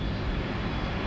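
FedEx Airbus A300 taxiing at Tampa International Airport, a loud, steady jet engine roar that fills the moment without pause, with no voices over it.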